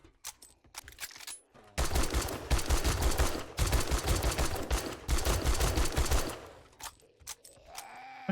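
Rapid automatic gunfire with 7.62 ammo in 7 Days To Die, loud close bursts of dense shots in three long volleys separated by brief pauses, preceded by a few scattered single shots.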